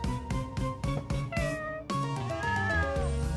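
A cat meows repeatedly in short, clear calls, then gives a longer, drawn-out meow, close and fairly loud over faint background music.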